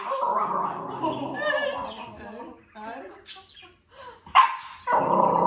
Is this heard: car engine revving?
no